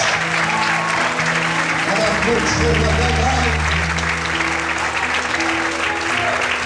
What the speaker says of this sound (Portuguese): Levanta a mão agora e aplauda ao Senhor nessa noite